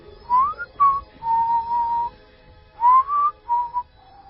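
A person whistles a short melodic tune, rising and sustained notes in two phrases separated by a brief pause, clear against a quiet background.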